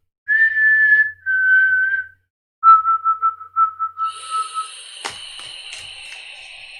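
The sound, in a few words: whistled imitation of a bird call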